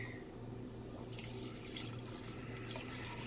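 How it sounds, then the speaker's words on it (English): A quart of milk poured slowly into a pan of cooked butter and flour for a lasagna alla Bolognese sauce, a steady close liquid stream with a faint hum beneath. "my next step is going to be adding a quart of milk"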